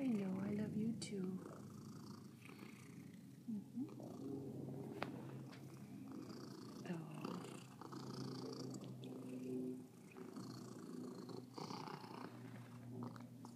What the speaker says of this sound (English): He's gonna purr.